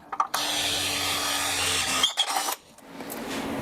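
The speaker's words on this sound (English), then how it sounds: "So I'm just going to re-drill it because I want my spacing" A power drill re-drills a misplaced hole while a curved bumper is built for a 1939 Hudson rat truck. It whines steadily and close for about two seconds, then cuts out, leaving a quieter background.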